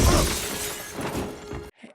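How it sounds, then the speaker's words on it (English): A grapple gun fires through a plate glass window in a film scene, and the glass shatters in a loud crash of breaking shards before cutting off abruptly into a brief faint tail. "a grapple gun through a plate glass window."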